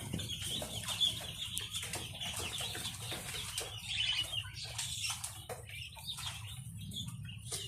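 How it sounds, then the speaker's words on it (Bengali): About twenty male quails flap and scuffle inside a cage, a continuous rustle of wings and small feathery bursts close by, with no talking. "এখানে 20টা পাখি আছে এই খাঁচার ভিতরে।"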